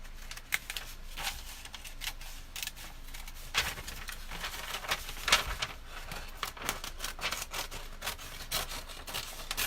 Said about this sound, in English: first I better cut it with my scissors